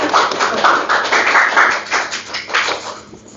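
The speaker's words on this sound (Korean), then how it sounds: "우리 홍현희 전도사님께 또 박수를 보내고 또 감사의 말씀을 드리겠습니다." Steady clapping from a church congregation during a deacon ordination service, a dense patter of hand claps that rises and falls slightly before thinning out at the end.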